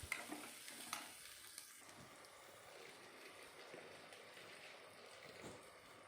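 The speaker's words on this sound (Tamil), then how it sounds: "நல்லா வதக்கி விடுங்க. வெங்காயம் நல்லா வதங்கி வரணும்." Gentle sizzling of onions sautéing in oil, with occasional stirring scrapes and clinks, steady and fairly quiet.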